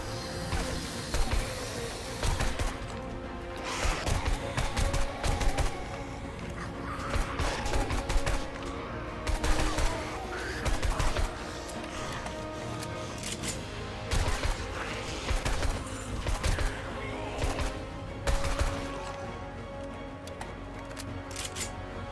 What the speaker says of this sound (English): I pulled out my AK and went to work.